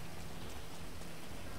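Rain pouring in the video game GTA Online, a dense, even wash of falling water that holds steady and unbroken throughout.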